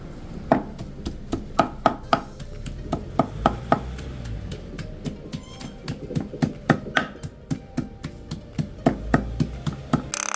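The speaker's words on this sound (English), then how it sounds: "on this board over here we're gonna chop it up fine" A knife chops chicken finely on a cutting board, many sharp close thuds in quick uneven bursts with brief pauses between runs.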